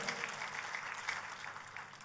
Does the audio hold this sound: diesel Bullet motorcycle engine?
no